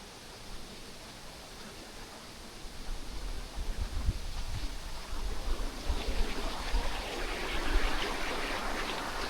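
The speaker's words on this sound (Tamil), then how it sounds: "இது ஒரு சின்ன அருவி." A small forest waterfall stream rushes in a continuous broadband hiss, growing fuller and louder partway through, with no talk over it.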